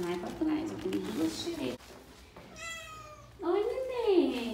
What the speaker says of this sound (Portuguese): Vamos ver se tem algum gato me esperando aqui na porta.